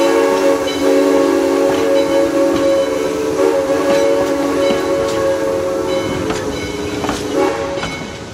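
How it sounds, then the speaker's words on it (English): A long, sustained steam whistle from a Yosemite Mountain Sugar Pine Railroad steam train, a steady chord-like tone held for several seconds with slight wavering over the rumble of the moving train. "Check out the beautiful sound of this train's steam whistle."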